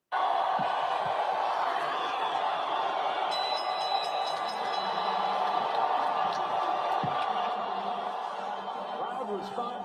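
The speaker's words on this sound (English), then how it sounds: "Crowd responding positively as they have all night to a great night of fights in Queens" Arena crowd at a boxing fight night in Queens, a continuous roar of murmuring, cheering and scattered laughter from many spectators at steady volume throughout.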